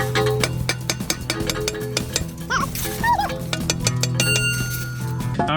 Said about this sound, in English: So now we just gotta kind of hammer it off